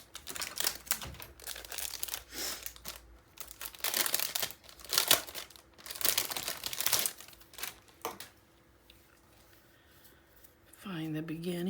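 A quarter-inch roll of craft tape is handled close by, with bursts of crinkling and rustling that come and go, a pause, then a short voice near the end.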